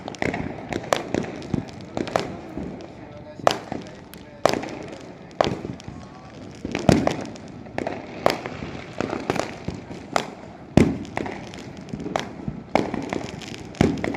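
Firecrackers bursting during Diwali, a rapid irregular series of sharp cracks and pops at moderate distance, some clustered and some spaced apart, with faint voices in the background.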